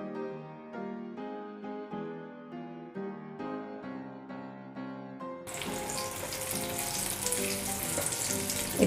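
Potato and bread rolls frying in oil in a pan over medium flame, a steady close sizzle that grows denser and louder partway through, with no voices.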